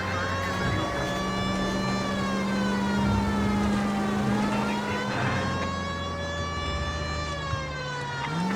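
A police car siren in the video game L.A. Noire wails loudly and continuously, rising and falling over a steady engine drone, with no voices.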